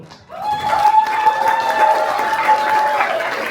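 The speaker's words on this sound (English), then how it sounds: "please, a big round of applause for the first debate of the day" Applause from a debate tournament audience after a match: a dense, steady wash of clapping from a crowd, rising quickly and holding loud throughout, with some murmuring voices underneath.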